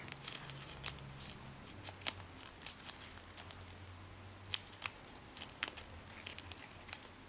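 Quiet paper handling while shaping an origami rose stem: soft crinkles, taps and brief crackling snaps scattered irregularly over a faint low background hum, with no talking.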